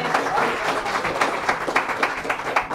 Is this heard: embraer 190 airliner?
no